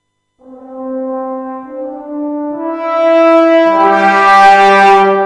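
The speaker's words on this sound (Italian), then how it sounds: "Questo è il suono di base, Brass Ensemble Sustain." A sampled brass ensemble from the Symphobia orchestral library holds sustained chords, swelling gradually as more voices and higher notes stack in, ending full and bright.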